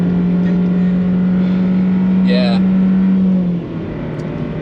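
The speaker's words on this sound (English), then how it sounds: "I'm flat on the gas already before the corner." A small 83-horsepower car accelerating flat out on the Nürburgring, its engine a steady loud drone held for several seconds before easing off, with a brief voice heard over it.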